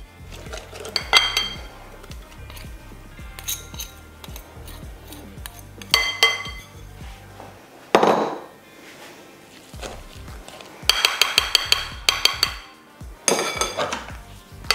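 Zucchini waffle batter is stirred in a bowl with a utensil, giving irregular clinks and scrapes against the dish, louder bursts of rapid tapping near the end, close and with no voices.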